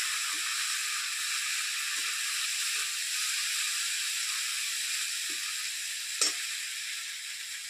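Chital fish kalia sizzling in a pan after a spoonful of turmeric goes in, a steady, bright frying hiss with a few faint clinks and one sharp tap near the end, no talk.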